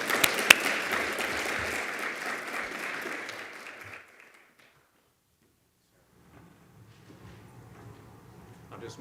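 Audience applause at an agricultural outlook forum, fairly loud clapping for about four seconds that fades quickly into near silence before faint room noise and movement return.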